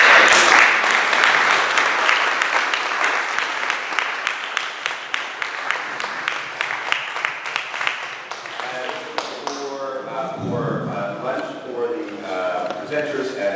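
An audience at a roundtable session on plurilingualism breaks into sustained applause to thank the keynote, dense clapping that thins into scattered claps and then fades as murmuring voices take over near the end.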